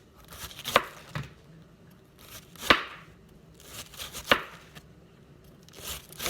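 A knife slices cabbage thinly for sauerkraut, cutting in a few sharp, crisp strokes spaced about two seconds apart, near and fairly quiet, with no talking.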